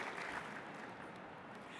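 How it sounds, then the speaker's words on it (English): Audience applause at a museum pavilion grand opening and parade ground dedication, a brief, faint, distant patter of many hands clapping that stays even. "I'll clap for that too."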